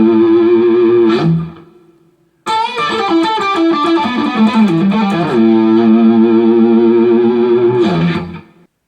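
Distorted electric guitar plays the outro lead breaks from a song, with sustained bent notes and quick runs, loud and close. A sharp stop leaves a short gap before the phrase resumes, with no voices.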